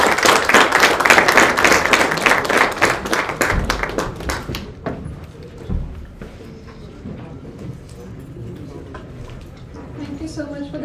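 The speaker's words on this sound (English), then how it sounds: "A round of applause for sir and his explanation today." Symposium attendees at a talk on shock waves in medicine and engineering give brisk, rhythmic applause that fades after about four seconds, followed by a person speaking amid quiet room sounds.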